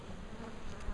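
A dense, steady drone of many bees buzzing close at a beehive, loud and unbroken, with no voices.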